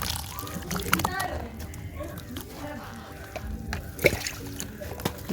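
Water poured over cocopeat in a gardening setting gives soft splashes and sloshing trickles under steady talk, with a few brief sharper splats.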